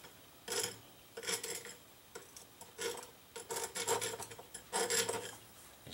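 A burr is rubbed off a piece of metal stock in a shop, making about six rough rasping strokes in a loose rhythm, close and moderately quiet, with no talk.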